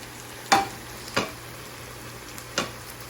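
Dried loitta fish tipped into a pan and fried with spices, giving three short, sharp sizzling bursts as pieces hit the hot oil, separated by quiet pauses.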